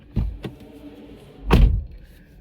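A Toyota Yaris Cross 1.5L S HEV door shuts with a solid thunk after two lighter clicks of the handle and latch, close and distinct against a quiet background.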